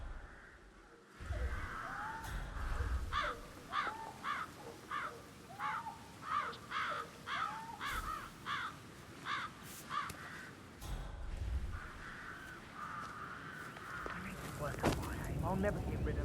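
Crows caw repeatedly in Hitman 3, a run of evenly spaced harsh calls in close succession, fairly loud, followed by scattered rustling and game sounds.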